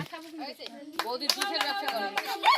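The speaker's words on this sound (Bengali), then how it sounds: "তো হাততালি হয়ে যাবে" A crowd of people clapping in a brisk, uneven patter at a glass water-swapping party game, with voices talking and chattering over the applause throughout.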